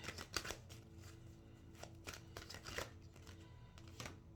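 Tarot cards shuffled by hand in soft, uneven bursts of riffling and sliding, with a few sharper snaps as cards are pulled and laid down, fairly close with no talking.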